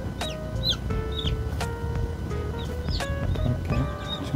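Newly hatched chicks, a silkie and a native Korean chicken, peep repeatedly in high, clear chirps close by, a steady run of short calls over a low background hum.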